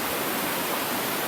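Water rushes steadily in a stream at an open-air river bathing spot, a dense, even hiss of flow with no breaks and no voices.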